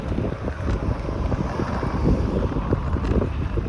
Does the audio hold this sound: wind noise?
yes